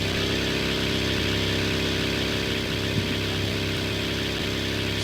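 A buggy engine drones steadily in a video game, a continuous mid-pitched hum at close range with an even level throughout and no break.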